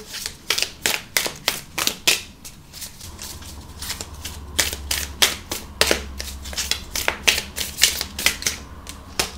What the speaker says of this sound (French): Alors, on va encore tirer quelques cartes.